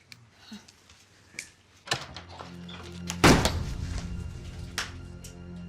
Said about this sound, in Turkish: Kırdın kapıyı.